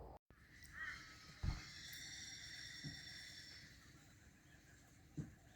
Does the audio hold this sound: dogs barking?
no